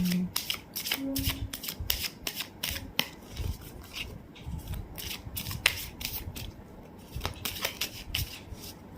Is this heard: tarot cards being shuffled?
yes